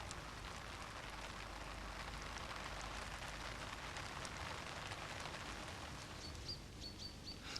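Light rain patters steadily on surfaces, soft and continuous, with a few faint bird chirps appearing near the end, as a little owl bathes in the rain.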